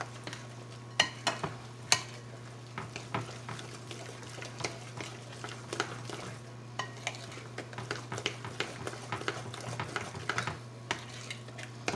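Coffee cake batter being stirred by hand in a bowl, with irregular soft scraping and clicking strokes of the utensil against the bowl over a steady low hum, fairly faint and with no talking.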